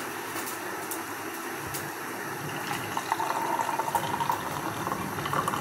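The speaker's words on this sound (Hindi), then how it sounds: "चाय डाल लेते हैं हम" Tea poured into a cup to brew in a home kitchen, a soft steady liquid trickle that grows slightly louder and more bubbly toward the end, heard alone without talk.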